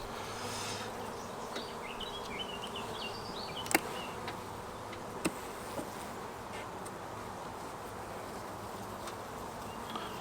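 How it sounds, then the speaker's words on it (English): Honeybees buzzing on a brood comb frame lifted from a damaged poly hive, a steady close insect drone with an occasional louder bee passing near and a few faint clicks. "here you can see the bees are fairly calm, nice and still on the comb"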